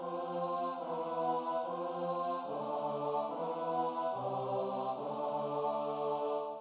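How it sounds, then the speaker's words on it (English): Sustained tones moving together in parallel voicings like medieval church music, shifting chords every second or so, a smooth organ-like choral texture, steady and moderately quiet. "medieval church music also featured parallel voicings, which sound something like this"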